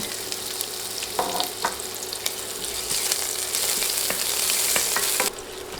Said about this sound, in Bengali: এক মিনিটের মতো পেঁয়াজ ভেজে